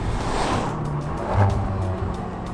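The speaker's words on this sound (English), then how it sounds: "This is the standard exhaust, and it sounds pretty decent." A Volkswagen Golf R with its standard exhaust drones steadily with a low, throaty note that swells briefly in a rev, heard close and continuous without any voices.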